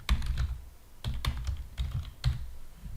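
Keys clatter on a computer keyboard in short bursts of rapid typing separated by brief pauses, close and fairly loud, with no voices.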